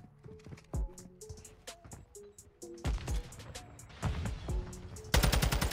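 TAQ 56 rifle fire in Modern Warfare 2 crackles in quick bursts of sharp shots, mixed with distant gunfire, and ends in a loud, rapid close-range volley.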